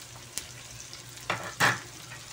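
Pork sizzles as it is sautéed in a pan for ginisang petchay. A soft, steady frying hiss is broken by a few louder stirring scrapes and bursts of sizzle near the end.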